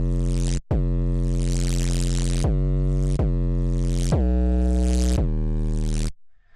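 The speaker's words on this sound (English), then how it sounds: "classic clipped 808 kind of sound" Loud, buzzy distorted sub bass notes from a hard-clipped Serum 2 synth, a classic clipped 808 style, a series of heavy sustained tones stepping in pitch, abruptly cut off at the end.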